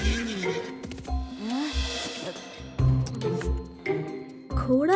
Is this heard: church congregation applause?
no